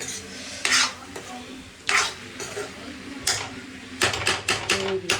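Okra curry cooked with tomato in a home kitchen pan sizzles softly while a metal spoon stirs and scrapes it in bursts, ending in a rapid run of clinks. Everything sounds close, with no clear speech.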